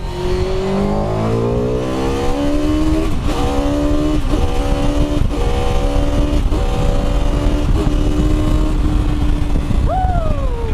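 A high-revving Honda superbike engine screams up through the gears toward 14,000 RPM in repeated rising sweeps, loud and close, ending with a final sharp rev.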